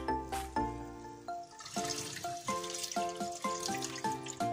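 Grain that has soaked for 24 hours is rinsed at home under running water, with a steady splashing and churning flow and clinks from the stirring, close and fairly loud.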